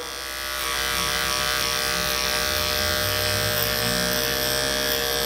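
Electric hair clippers fitted with a number 4 detachable blade buzz steadily and close, switching on and then holding an even, high-pitched hum with a faint shift as they work through hair at a barber's chair.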